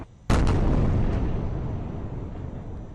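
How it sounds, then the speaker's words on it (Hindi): A single massive explosion bursts suddenly after a moment of quiet at night during an attack on Israel, followed by a long, deep rumbling roar that slowly fades. "उसके बाद परिणाम देखिए, जोरदार विस्फोट।"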